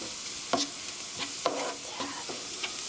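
Scrambled eggs with onions stirred in a pan over a constant loud sizzle, a spatula scraping the surface in several evenly spaced strokes, close up and without speech.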